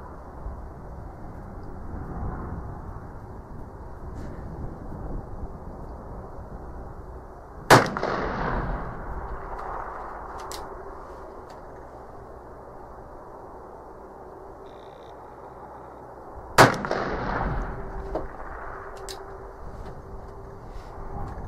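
An Uberti Colt Dragoon black-powder revolver fires two loud, sharp shots about nine seconds apart outdoors, each followed by a brief echoing tail over a quiet background.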